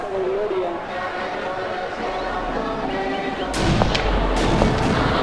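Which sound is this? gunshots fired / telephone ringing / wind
gunshots fired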